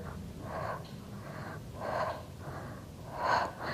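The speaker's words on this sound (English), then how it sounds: "little exhales here" Short, forceful breaths out during a Pilates ab exercise on a small ball: four or five rhythmic puffs roughly a second apart, close and moderately loud.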